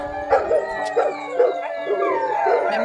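Dogs at a resort in Sakleshpur bark and yip in a steady series of about six calls, moderately close against quiet background noise.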